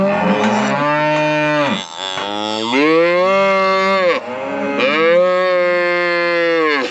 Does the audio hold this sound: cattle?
yes